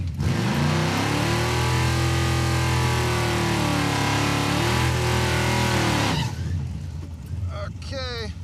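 The Crop Duster drag car launches and accelerates hard down the drag strip, a loud, sustained engine roar with rising pitch through gear changes, cutting off abruptly after about six seconds, followed by fainter distant noise.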